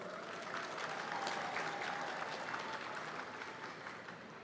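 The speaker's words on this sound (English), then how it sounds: "Give yourself a resounding round of applause." Graduates at the University of Nairobi graduation ceremony applaud. The sound is a broad, sustained clapping from a large crowd, slightly distant and fading a little toward the end.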